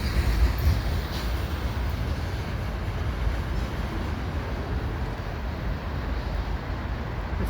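A steady, loud rumble of a Quebec Gatineau Railway freight train with ex-BNSF and ex-CN locomotives rolling past continuously, with dense low-end clatter and no voices.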